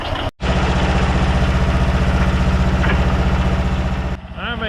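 Diesel engine of a worn-out tracked dumper running steadily and loudly up close, a strong low throbbing idle that continues for several seconds before easing off near the end.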